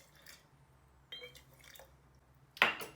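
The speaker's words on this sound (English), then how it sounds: "So I'm going to go ahead and add that water in" Water is added to yeast samples in a small home experiment, heard as faint scattered drips and splashes, ending in one sharper, louder splash.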